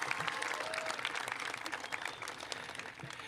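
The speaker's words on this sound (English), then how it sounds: "You can cheer." A commencement crowd honoring its cadet corps at Cal Maritime claps and cheers at a distance, a broad, fairly faint roar of applause with scattered whoops rising over it.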